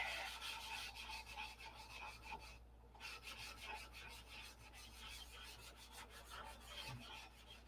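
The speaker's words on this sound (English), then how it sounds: "Blending the fiberglass into the Jap tissue now" Fiberglass being sanded into Japanese tissue on a model P-47 airplane, a steady close rubbing rasp with one brief pause, fairly quiet and even.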